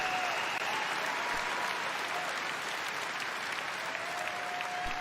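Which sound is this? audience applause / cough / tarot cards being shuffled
audience applause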